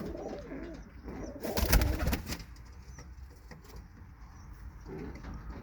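Birmingham Roller pigeon cock birds coo in a loft, soft throaty calls repeating close by, with a louder burst of fluttering and movement partway through.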